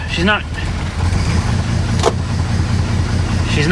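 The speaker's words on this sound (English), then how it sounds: "now it's running off of its gas" A 1957 Plymouth two-door barn find, parked for over twenty years, idles steadily on its own fuel with a low, continuous rumble, while voices talk over it briefly and a short mechanical click sounds midway.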